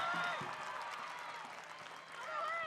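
Stadium crowd applauding a soccer player at a 2022 NWSL match between North Carolina Courage and Orlando Pride, a broad steady wash of distant clapping and crowd noise with a commentator's voice over it.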